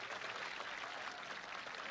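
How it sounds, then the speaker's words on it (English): A crowd at the 1979 World's Strongest Man contest applauds in a dense, steady wash of clapping, constant and moderately distant throughout. "The crowd is whooping it up."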